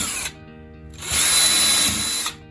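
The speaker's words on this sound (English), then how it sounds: "I wanted to show you the drilling and how easy it works" A power drill bores into a plastic G-scale or O-scale girder bridge in two bursts, a short whine that cuts off, a pause, then a longer steady high-pitched run, loud and close.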